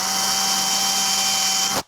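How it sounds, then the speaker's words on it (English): A power drill bores into a Fender Stratocaster guitar body with a 4 mm bit, one continuous steady whine held for nearly two seconds before cutting off abruptly. "I'm just going to drill in"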